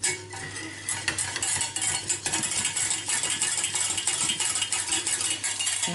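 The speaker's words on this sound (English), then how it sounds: "whisk it. And you should get a roux." A whisk works butter and flour into a roux in a pan for a cauliflower cheese sauce, giving a busy, continuous metallic clicking and scraping, close and fairly loud, with no talk.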